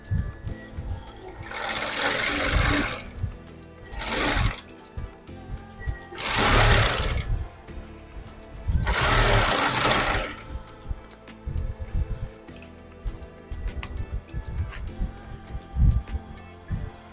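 Sewing machine stitching fabric for a corporate women's outfit, running in several bursts of steady whirring, each a second or two long, separated by pauses with quieter handling noises.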